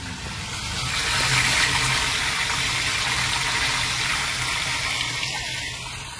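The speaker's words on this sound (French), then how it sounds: "on active la pompe et on envoie le produit du bac" A pump sends liquid product from a mixing tank to a crop sprayer, giving a steady, loud gushing rush of flowing liquid that swells slightly and holds evenly for several seconds.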